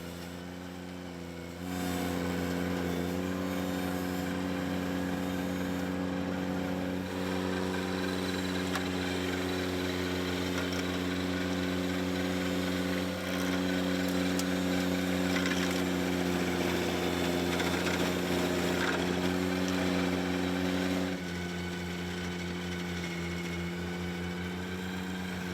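A subcompact tractor fitted with a stump grinder runs continuously at a steady droning pitch, loud and close, its level rising slightly after the first seconds and holding without talk throughout.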